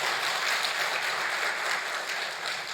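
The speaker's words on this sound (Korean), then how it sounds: "박수 한번 하겠습니다" A church congregation claps together in steady, dense applause that holds even and loud throughout, with no voices standing out above it.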